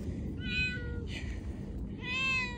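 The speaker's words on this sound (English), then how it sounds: "A lot of cats up here." A cat meows twice on a hiking trail on Dobongsan mountain in Korea, clear and fairly close, with a short pause between the calls and steady low background noise underneath.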